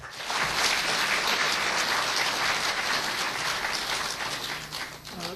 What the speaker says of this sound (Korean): 여러분들이 큰 박수로 맞아주시죠